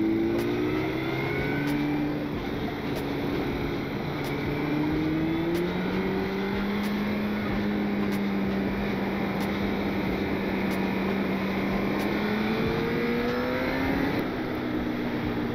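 A Suzuki GSX-R sport motorcycle engine drones and revs steadily throughout, its pitch rising and falling in long sweeps, loud and continuous with no talking.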